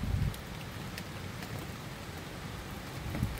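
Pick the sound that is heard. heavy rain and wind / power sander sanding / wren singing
heavy rain and wind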